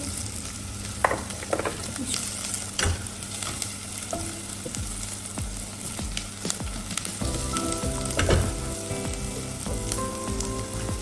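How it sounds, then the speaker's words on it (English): Chopped leeks and celery sauteing with garlic in a pan for cream of mushroom soup, a steady close sizzle with repeated stirring scrapes and clinks throughout, no talking. "So after sauteing for a while"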